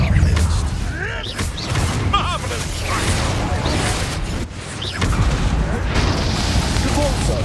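A fire spell explosion, the Confringo curse, bursts during combat in Hogwarts Legacy, with booming thuds and crackling blasts in a dense mix of clashing effects and constant voice chatter.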